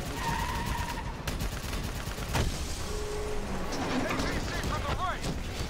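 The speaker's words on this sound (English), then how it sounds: "I'm just shooting everywhere." Rapid bursts of gunfire crackle amid loud game noise in Call of Duty: Black Ops 3 campaign, with scattered shots, explosions and whooshing effects mixed in.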